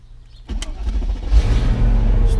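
A 2003 Mercedes SL500 with a previous no-start fault cranks briefly and fires up, then settles into a steady, close idle.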